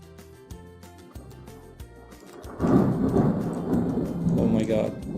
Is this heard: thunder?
yes